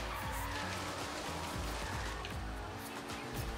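A Mustang drifting in Forza Horizon 3's Hoonigan expansion, its engine droning at moderate distance with tires scrubbing and squealing through a slide, steady and continuous without talk.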